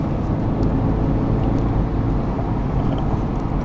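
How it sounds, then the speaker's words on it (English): Steady four-cylinder engine drone heard from inside a Mercedes-Benz C300 cabin, a low continuous hum with road and wind noise, no talking. "you can't get away from the noise of the 4-cylinder coming into the cabin."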